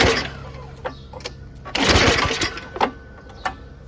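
A Yard Machines 22-inch dual-stage snowblower with a dry 5.5 hp Tecumseh Snow King engine gives one short, close cranking whir that does not catch, set among a few sharp mechanical clicks and quiet gaps.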